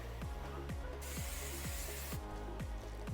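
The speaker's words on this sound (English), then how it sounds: "spray some Pam on it." A steady hiss of Pam cooking spray on a heated grill for smoking tri-tip, lasting about a second, over a rhythmic low background pulse, with the grill setting quiet around it.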